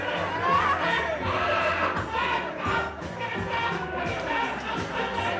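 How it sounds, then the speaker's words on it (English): A large crowd of fans screams and cheers in a continuous loud roar for several seconds, with individual shrieking voices poking out of the mass of sound. "Screaming's coming now."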